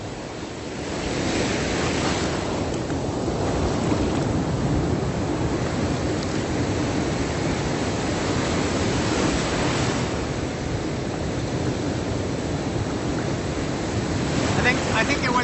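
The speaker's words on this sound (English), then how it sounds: "enjoying the surf, the waves, the ocean." Ocean surf rolls continuously onto Back Beach in Vung Tau, Vietnam, a steady broad wash of breaking waves with gusty wind buffeting close by.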